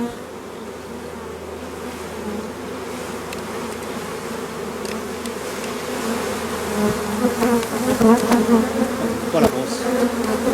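A dense swarm of honey bees hums steadily around a hive, a continuous close buzz that swells louder toward the end with individual bees zipping past the microphone.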